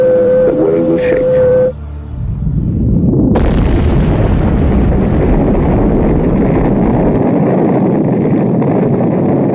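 Atomic bomb detonating over Hiroshima in 1945: after a brief steady tone and a short lull, a sudden massive blast erupts into a loud, sustained roaring rumble that carries on to the end.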